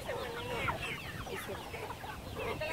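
Hens clucking on a small farm, repeated short throaty calls from several birds close by, overlapping in a busy continuous stream.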